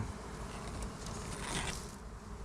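Bees swarming around a wild honey nest in a forest, a dense steady buzz with a slight swell near the end, fairly close and with no voices.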